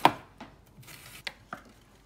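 A knife chops onion on a cutting board in a few distinct, irregular thuds, close and crisp against a quiet background.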